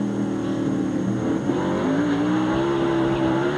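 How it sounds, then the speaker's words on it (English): A NASCAR race car engine roars loudly at high revs, its pitch climbing steadily as the car spins out under heavy throttle, with no voices. "you hear it hit that gas and spin that thing on around"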